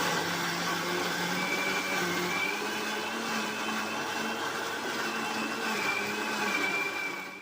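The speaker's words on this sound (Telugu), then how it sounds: "ఆ వాటర్ని కొద్దిగా వేసుకుంటూ వీలైనంత ఫైన్గా మిక్సీ పట్టుకోవాలి" A kitchen mixer grinder whirs steadily as it grinds soaked green gram into a fine batter, a loud continuous motor drone with a whining tone that holds for the whole stretch before easing off at the end.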